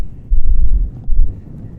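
Strong, gusty wind at Merrivale quarry on Dartmoor in Devon buffets the microphone as low, rumbling surges, with two heavy gusts swelling and dropping away in quick succession.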